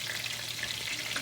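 Fish fillets frying in hot grease or oil in a pan, a steady close crackling sizzle throughout with no voices.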